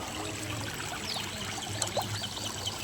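Rainwater runs steadily into a street drain, a soft continuous pouring trickle that stays fairly faint throughout.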